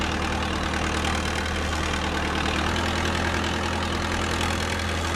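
A forklift engine idles in neutral inside a VR training simulation, giving a steady, even low drone with a constant hum and no change in pace for the whole stretch, with no voices.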